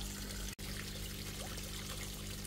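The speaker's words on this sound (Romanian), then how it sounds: "Am spălat scrumbia în apă rece, uitați cât de bine arată" Cold water trickles and pours steadily over Black Sea herring being rinsed, a soft continuous splashing with a brief drop-out near the start.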